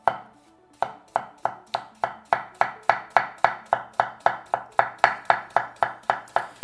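A knife chops through onigiri, a Japanese rice ball, on a board. Roughly twenty crisp, evenly spaced strokes come in a fast steady rhythm after a brief pause. It is close and clear, with no voices.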